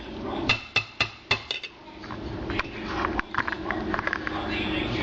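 Penne pasta with oil, garlic, spinach, mushroom and tomato stirred in a metal pot, a run of sharp clanks and scrapes early on, then a steadier softer clatter under faint background noise.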